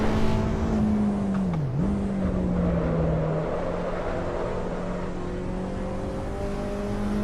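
A race car engine in the Assetto Corsa Evo video game at the Brands Hatch circuit, droning steadily at a constant pitch with one brief dip as if shifting, heard throughout the clip at moderate loudness with no speech.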